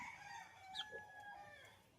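A chicken gives a drawn-out crowing call close by, with a brief cluck in the middle, over quiet background.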